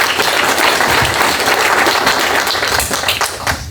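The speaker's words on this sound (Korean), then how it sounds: "박수로 맞아주시기 바랍니다." Sustained, dense applause from an audience at a construction union branch's regular delegates' assembly, welcoming a speaker to the stage; loud and steady throughout, tapering slightly toward the end.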